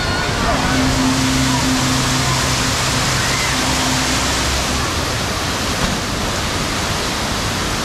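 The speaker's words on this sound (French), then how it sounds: "La piscine à vagues, comme vous pouvez le voir, elle est ultra impressionnante." A wave pool at Universal Volcano Bay water park gives off a steady, loud wash of churning water and surf noise, continuous throughout, with faint low hum in the background.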